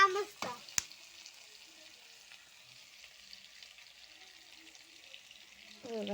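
Tomato with turmeric and red masala sizzles steadily in hot oil for a soybean curry, a continuous close hiss with a few brief stirring clatters at the start and end.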